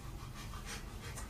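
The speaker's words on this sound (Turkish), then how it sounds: "Sevimli bir köpek var." A dog pants steadily nearby, a fast, breathy rhythm of quick in-and-out huffs carrying on without a break.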